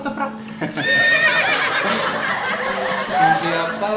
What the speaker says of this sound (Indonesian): Kuda kan bunyinya ketoprak ketoprak ketoprak.